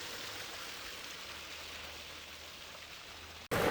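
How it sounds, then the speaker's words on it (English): A villa's waterfall system pours out a steady, even rush of falling water for several seconds, then a louder burst of splashing cuts in at the end. "this is actually our waterfall system"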